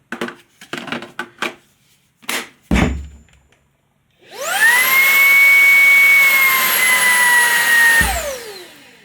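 A Ryobi jobsite hand vacuum, heard first as a few sharp plastic clicks and knocks, then starting up into a loud, high, steady whine for about four seconds before it spins down quickly to silence.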